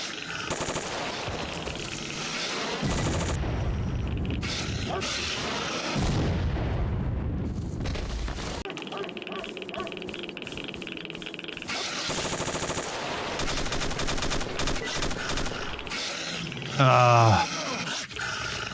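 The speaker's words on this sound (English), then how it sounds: "it's probably an Avenger firing at us." Heavy automatic gunfire from an Avenger rifle in S.T.A.L.K.E.R. Narodnaya Solyanka, sustained bursts and booming impacts amid game ambience, with someone talking over parts of it.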